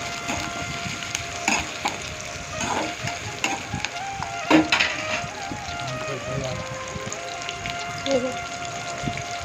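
Chopped large onions fry in oil with curry leaves for an egg gravy, giving a close, steady sizzle and crackle with occasional stirring knocks in the pan.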